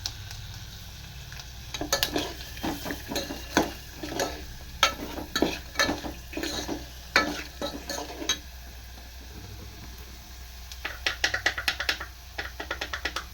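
Dried red chillies fry in a pan with a little salt under a soft, continuous sizzle, punctuated by bursts of sharp tapping and scraping as a spoon stirs them.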